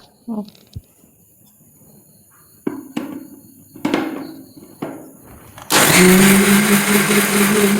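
A mixer grinder grinds soaked rice into dosa batter, a loud, steady whirring roar that starts abruptly after a few scattered kitchen clatters and runs to the end.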